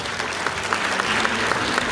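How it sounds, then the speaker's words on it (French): An audience applauds the jury at the Ambassadrices de France 2019 pageant, a dense, steady burst of clapping from a crowd filling the room at close range. "On peut les applaudir parce qu'ils sont là toute la soirée."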